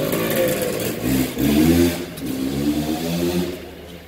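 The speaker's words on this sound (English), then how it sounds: "Love the sound of the old two-strokes." An old two-stroke motorcycle engine revs and idles nearby, rising and falling in a few throttle blips with a buzzy, mid-pitched drone.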